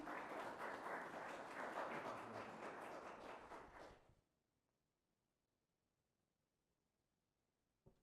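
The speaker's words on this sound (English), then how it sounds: "Give her a hand clap." An audience at an employee awards presentation claps loudly and steadily for about four seconds, then the sound cuts off abruptly to near silence.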